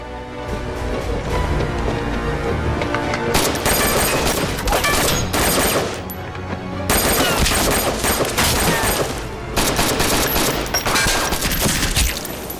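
Heavy, continuous gunfire rattles loudly in long sustained bursts during an ambush, broken by a couple of brief lulls before the volley resumes.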